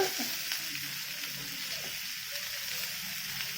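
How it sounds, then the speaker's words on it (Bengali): Chopped green chili and onion fry in plenty of oil in a wok, a steady close sizzle that holds evenly throughout with no talk. "এগুলোকে আমি ভালো করে ভেজে নেবো"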